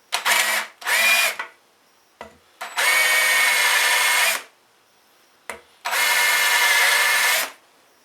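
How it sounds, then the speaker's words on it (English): A power drill fitted with a big countersink bit enlarges a hole so a pot will fit through, running in loud close bursts, two short ones and then two longer, with brief pauses between. "I'm going to just try and put a bit of a big countersink onto the back of there"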